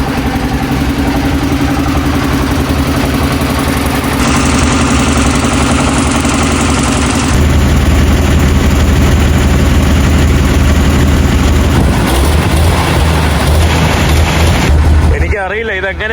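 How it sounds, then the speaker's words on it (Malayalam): A boat motor runs steadily on a river boat between Mopti and Timbuktu, a loud constant engine drone that shifts in tone midway and stays prominent throughout, with voices faintly mixed in. "ഇവിടെ മോട്ടർ എന്തോ അവർ ഇട്ടിട്ടുണ്ട്."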